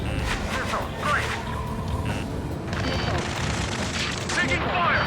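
Gunfire in the video game Ace Combat 7: Skies Unknown, during a rescue mission under attack, dense rattling bursts running continuously under urgent shouted radio chatter.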